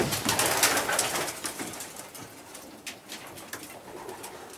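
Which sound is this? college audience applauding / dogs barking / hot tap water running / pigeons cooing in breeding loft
pigeons cooing in breeding loft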